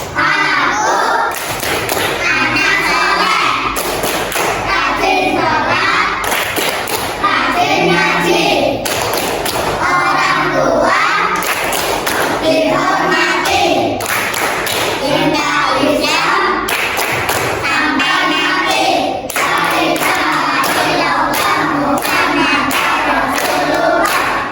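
Children perform the rhythmic Tepuk anak soleh clapping game in a classroom, loud, close bursts of patterned hand claps and thumps in repeated phrases, mixed with children's chanting voices.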